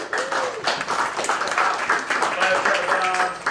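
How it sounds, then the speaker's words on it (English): Audience applause for a speaker at a weekly startup meetup, steady mid-level clapping that runs through the clip with voices talking over it. "Let's give him another round of applause"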